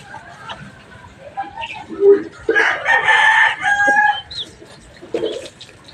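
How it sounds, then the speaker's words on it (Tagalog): A Saso chicken crows with a drawn-out, loud call in the middle and clucks in short bursts before and after, close by on a farm. "Saso chicken po yan."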